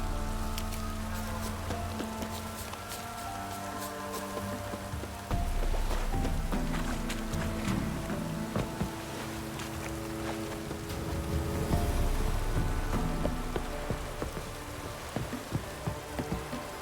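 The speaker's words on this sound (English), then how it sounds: "Looks like rain." Steady rain patters and hisses on surfaces in the video game The Witcher 3: Wild Hunt, a dense continuous downpour with occasional louder drops and a low rumbling undertone, no voices.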